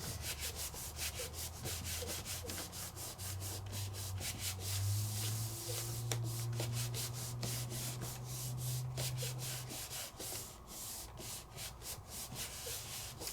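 Paper image pressed and rubbed down by hand onto a surface while crafting with watercolor inks, a steady soft scraping friction that continues for several seconds before easing off, with no talking.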